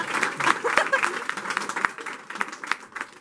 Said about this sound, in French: Applaudissez la régisseuse.